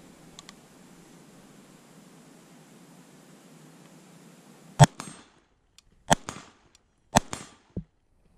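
LMT SBR rifle fired in a slow string of about four sharp, loud shots after a quiet stretch of low background noise.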